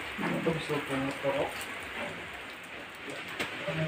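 Steady rain patters throughout, a dense hiss with scattered drops, while a voice talks over it in the first half.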